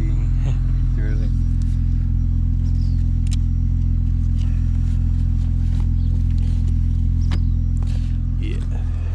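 Running engine of a car just after starting, a strong steady low rumble that holds throughout, with brief indistinct voice and small clicks over it.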